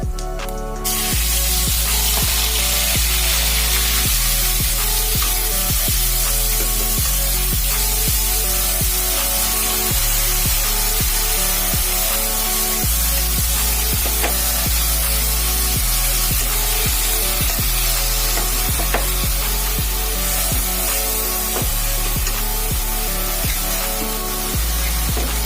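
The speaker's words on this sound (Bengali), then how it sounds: "গোটা জিরে আর শুকনো লঙ্কা একটু নাড়াচাড়া করে আমি দিয়ে দিচ্ছি সেদ্ধ করে রাখা সর্ষের" Boiled mustard greens hit a hot pan of oil with whole cumin and dried chili, giving a loud, continuous sizzle with scraping and stirring noises throughout.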